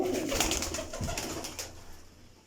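Pigeons coo in a small breeder loft holding paired fancy pigeons, soft repeated throaty calls close by and fairly loud, overlapping through most of the short stretch with no talking.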